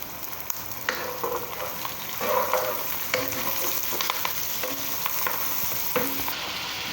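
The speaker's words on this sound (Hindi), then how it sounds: "तो चलिए आए, अब हम मिक्स करते हैं इसको। पकते हुए प्याज में हम मसाले शामिल करेंगे।" Spices are stirred into onions frying in a pan for a minced chicken keema. A loud continuous sizzle runs throughout, broken by repeated scraping strokes of the stirring spoon.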